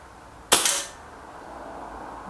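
A single sharp air rifle pellet shot cracks once at close range, a sudden loud impulse that decays quickly into a quiet background, during a target-shooting comparison between a Reximex Myth and a Kral Puncher Maxi.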